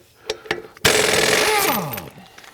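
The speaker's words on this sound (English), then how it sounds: "used with an impact wrench that's either pneumatic like this, or corded, or battery powered. So we're going to use the pneumatic here." A pneumatic impact wrench fires in one loud, rattling burst of about a second as it spins off a heavy-duty impact socket, then its motor whines down; a few light taps come just before.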